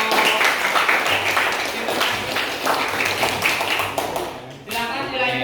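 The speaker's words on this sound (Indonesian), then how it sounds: "tepuk tangan untuk kelompok" A group of students in a classroom claps for a presenting group, producing brisk, fairly close applause that continues for several seconds, with voices talking over it.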